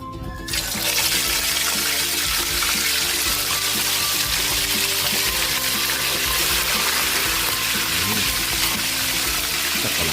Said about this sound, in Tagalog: Magpiprito na tayo.